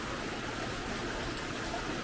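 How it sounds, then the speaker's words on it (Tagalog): A creek swollen by typhoon rain rushes in a steady, moderate broadband wash, continuous and without voices. "Napapaikutan kasi ako ng ilog eh. Ng sapa."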